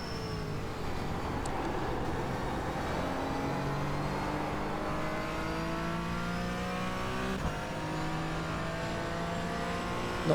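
A GT4 race car engine on a flying lap in the iRacing sim, a continuous droning whine that climbs steadily in pitch through the gears, with shifts and a slight bump near the end; close and unbroken, no talk.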